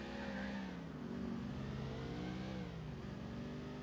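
A car engine revs and pulls steadily while driving in GTA IV, a continuous mid-pitched motor drone with shifting tone, close and alone without talk.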